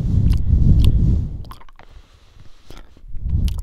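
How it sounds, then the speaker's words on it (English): Close-up wet chewing of a candy in a garage, with crunchy bites, squishy mouth sounds and small clicks, loud and continuous with a brief lull before the chomping picks up again. "Sorry, I'm chewing on a candy right now."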